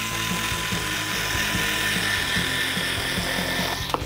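Power cutter tool running steadily with a buzzing, ratcheting mechanical whine as it cuts through material such as vinyl flooring or cork, close and uninterrupted.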